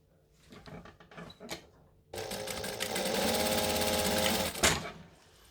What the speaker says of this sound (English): So I'm just going to come around and chain stitch that in